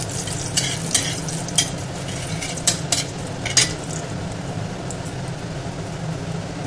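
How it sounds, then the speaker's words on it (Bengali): Bay leaf, dried chilli and cinnamon frying in oil for a Kolkata-style aloo dum, a constant crackling sizzle with several sharp spoon clinks against the pan, close up with no talking. "এবার এই তেলের মধ্যে এই সবকটাকে ভালোভাবে একটু ভেজে নেব।"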